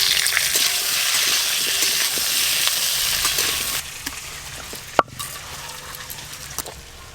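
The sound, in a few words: frying raw tomatoes in oil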